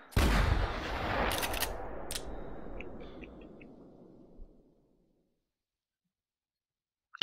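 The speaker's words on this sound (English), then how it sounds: "If it's a male, I'm shooting him." A single loud rifle shot fired at a boar in theHunter rings out near and sharp, then rolls away in a long fading echo over about five seconds before silence.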